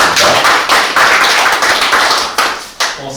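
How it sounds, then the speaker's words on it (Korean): An audience at an agricultural technology forum applauds, steady clapping filling the room for a few seconds with small swells before tapering off, no voices over it. "큰 박수로"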